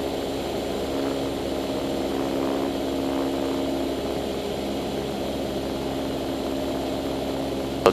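A small training airplane's propeller engine drones steadily in flight, a loud, even, continuous hum heard from inside the cabin.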